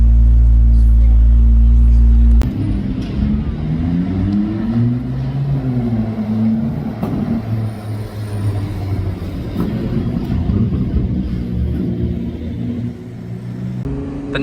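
A Ferrari 296 rated at 820 horsepower accelerates hard, starting with a loud low blast and then rising engine tones that climb and shift repeatedly, with voices over the run.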